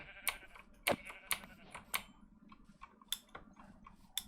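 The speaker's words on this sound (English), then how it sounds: "There's another sheep." Sheep in Minecraft bleat in a string of short, sharp, clipped calls spaced irregularly, quiet and somewhat distant, with no talk over them.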